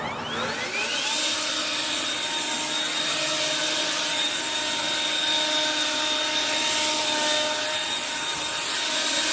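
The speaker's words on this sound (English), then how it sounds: "This is the blower on high." An EGO 56-volt battery leaf blower runs steadily on its high setting outdoors, a loud, continuous airy whine with a sustained tonal hum that holds without letup and no talking.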